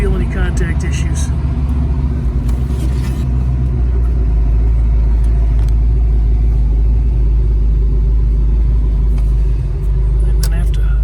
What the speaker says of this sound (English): That's our blower motor, and we're on cool.